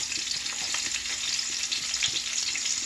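Onions dropped into hot grease in a pan fry with a loud, continuous crackling sizzle, close up and alone, with light stirring clicks.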